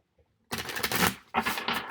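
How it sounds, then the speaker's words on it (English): Tarot cards shuffled by hand during a reading, a brief riffling burst followed by a short pause and a second burst, close and fairly clear with no talk over it. "We'll do one more shuffle."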